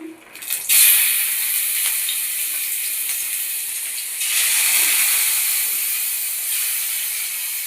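Salted rohu fish pieces fry in hot oil with a loud, continuous close sizzle and hiss that swells stronger about halfway through, with no one talking.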